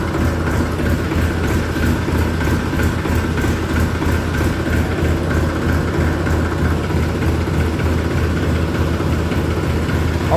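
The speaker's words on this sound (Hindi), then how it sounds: "ट्रैक्टर ने हल्की लंबी सेल्फ ली है।" A tractor engine idles steadily on a cold, foggy morning after a slow cold start, a continuous low rumble with an even, loud drone throughout.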